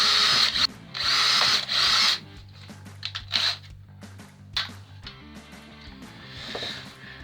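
Power drill driving screws into MDF while building a strong box: several loud whirring bursts in the first two seconds, then shorter intermittent spurts and a fainter run of drilling near the end, heard alone and up close.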